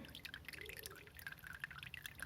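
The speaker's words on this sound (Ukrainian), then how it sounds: "Все, виливається вся вода" Water trickling and dripping steadily out of the bottom of an orchid pot freshly repotted in new bark, a soft close-up pour with scattered drips throughout.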